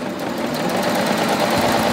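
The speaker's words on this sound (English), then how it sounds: "So I'm just going to stitch this muslin." A Baby Lock Ovation serger stitches through muslin fabric, giving a steady, loud mechanical whir and rapid needle chatter that runs continuously and close by, with no talking.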